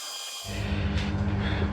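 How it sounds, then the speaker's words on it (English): A 1/4 inch end mill starts cutting a slot in metal, a sudden steady, high grinding whine with a low hum beneath, close up and continuous after a brief silence. "So 1/4 inch end mill. Just going to mill a slot to whatever depth I think looks right."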